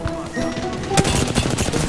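Gunfire in the video game Shield of Atua breaks out midway as a dense burst of rapid shots, loud and close. It sits under a busy game soundscape.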